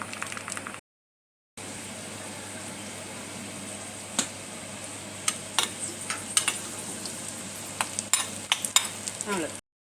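Ghee tempering with cashews and asafoetida is stirred into ven pongal, giving a steady low sizzle broken by a brief dropout and scattered sharp crackles and spoon clicks up close.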